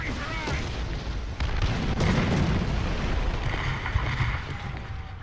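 An artillery barrage in the tank game War Thunder Ground Forces rumbles as a continuous roar of heavy explosions and booms, loud and sustained throughout with scattered sharper blasts.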